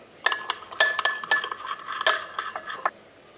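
A metal spoon clinks against a bowl while vegetables for a pasta salad are mixed, giving a quick irregular run of bright, close clinks and taps with no talk.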